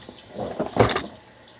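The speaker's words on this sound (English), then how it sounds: "So just have water running" Water runs from a tap in short splashing bursts that peak briefly and then fade, close and moderately loud, with no talking.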